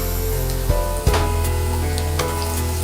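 Onion goes into a skillet of sizzling ginger, garlic and green chilli. A loud, close frying hiss rises with two sharp bursts as it drops in, then a steady sizzle continues alone.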